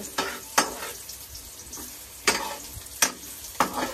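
Garlic fries in a pan with a soft steady sizzle, broken by several sharp scraping strokes of a spatula stirring it at irregular intervals, close by and with no speech.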